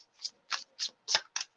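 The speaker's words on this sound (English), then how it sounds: "Can't even stop shuffling for you yet." Several short riffling bursts of tarot cards being shuffled, about six quick rustling strokes in a steady rhythm, close and clear with no talking.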